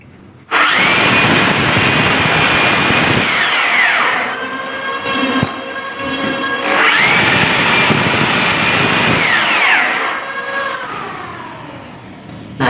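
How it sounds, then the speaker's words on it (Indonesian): A power drill bores holes into a bathroom floor while a toilet is being installed. The close, loud whine sounds in two long bursts with a short pause between them, spinning up and winding down each time. "Oke, sekarang langsung saja saya bor."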